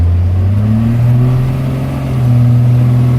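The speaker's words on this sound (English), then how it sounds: "That's full throttle right there." A 1993 Dodge W250 truck engine held at full throttle gives a loud, steady low drone with a strong harmonic hum, wavering slightly in pitch as it holds load.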